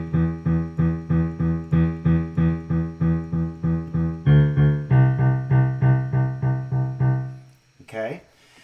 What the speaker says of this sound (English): in your left hand, you play eighth notes